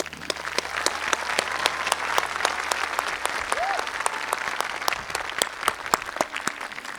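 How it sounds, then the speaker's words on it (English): Steady applause from a large audience at a college commencement ceremony, dense clapping that holds at an even level for several seconds. "Join me in giving them another round of applause"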